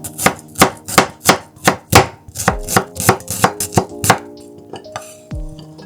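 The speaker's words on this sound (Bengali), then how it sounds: "এবার ধনেপাতা, পেঁয়াজ এবং লঙ্কা আমি স্লাইস করে কেটে নেব" A knife chops coriander, onion and green chilli on a board in quick, sharp strikes, about a dozen close, crisp cuts in an even rhythm that loosens toward the end, with no talking.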